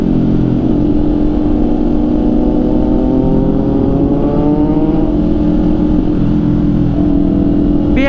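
A motorcycle engine, likely a Triumph Trident among 400cc–1000cc big bikes, drones loudly and steadily, its revs climbing and falling across the span with a brief sharper rise near the end.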